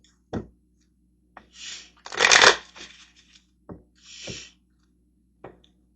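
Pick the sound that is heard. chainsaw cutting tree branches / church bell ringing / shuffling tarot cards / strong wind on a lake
shuffling tarot cards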